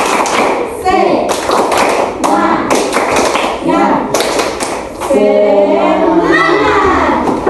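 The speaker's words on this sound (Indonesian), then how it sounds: "Ibu mau mengajak kita semua untuk tepuk semangat" Children in a primary school classroom perform a rhythmic clap chant, sharp close hand claps in a patterned beat mixed with lively chanting children's voices.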